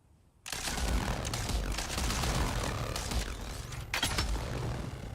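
Laser gun fire hitting a shield in Dune Awakening, a continuous crackling, sputtering stream of shots that starts abruptly after a brief quiet moment and stays loud, with a sharp burst near the end.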